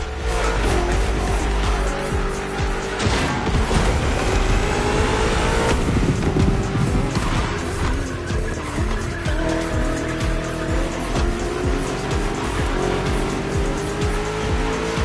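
BMW M CS cars race in The Crew Motorfest, with loud engines revving hard and tires squealing and skidding through corners, a continuous close roar of motorsport lasting throughout.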